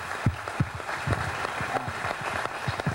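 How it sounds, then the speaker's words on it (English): A small gathering at the NRG Energy Louisiana Generating Big Cajun II plant gives a round of applause, scattered distinct claps at a moderate level, fairly sparse and uneven over a quiet room. "let's give a round of applause to the"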